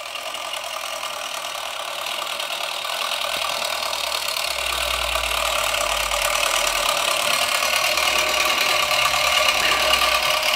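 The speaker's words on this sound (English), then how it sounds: "Not bad for an old electric motor, which is probably about 100 years old." An antique, roughly century-old Froment electromagnet motor running on battery power gives off a steady mechanical hum with faint rattling throughout, growing slightly louder over time.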